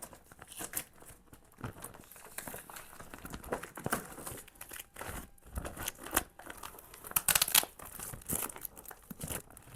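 Toy packaging being torn open and tape ripped off, giving bursts of crinkling, tearing plastic and paper at close range, irregular and uneven, with quieter gaps between.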